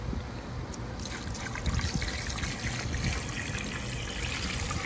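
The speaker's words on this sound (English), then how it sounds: "when you're putting your water, just over the top of your meat like that" Water poured over pork steak in a pan for a Cajun gravy, a soft continuous trickle and hiss of liquid hitting the meat, steady and fairly faint, with no voices.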